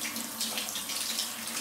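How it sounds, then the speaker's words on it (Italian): Running tap water pours steadily over a silicone facial cleansing device as it is rinsed under a bathroom faucet, a continuous close hiss with no talking. "potete passarlo tranquillamente sotto l'acqua"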